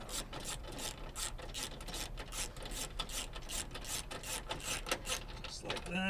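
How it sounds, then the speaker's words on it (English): Nuts being run onto studs with a hand tool while a car stereo is installed in a Chevrolet Nova, a faint steady scraping and ratcheting texture with light rhythmic clicks, no voices. "Now we can run our nuts in."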